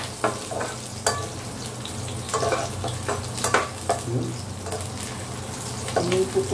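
Garlic frying in hot oil sizzles steadily, with sharp crackles and pops scattered throughout. The sounds are close and moderately loud.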